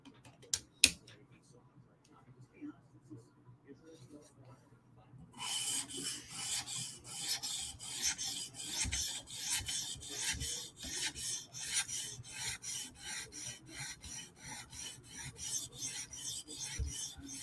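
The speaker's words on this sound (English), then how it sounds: "Now we're going to switch to our 400 grit stone." A Hinderer knife is drawn across a 400 grit sharpening stone, a quiet pause followed by a run of steady, rhythmic rasping strokes, each scrape close and even, with no one talking.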